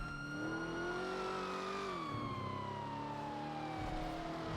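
A police car siren wails in a roleplay session of the video game GTA V, its tone sliding slowly downward and steady under continuous engine and road noise, fairly loud with no talk.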